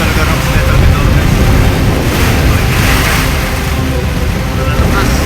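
Strong typhoon wind in Occidental Mindoro, Philippines, roars steadily and loudly throughout, a dense broadband rush with gusting surges, close to the microphone and unbroken by other sounds.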